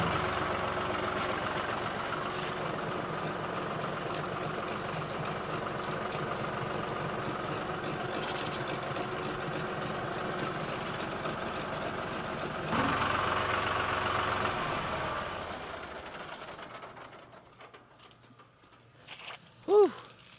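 A tractor runs steadily with the PTO engaged to drive a 3-point lime spreader, a constant low engine drone that shifts in tone partway through before fading down, followed by a few faint knocks.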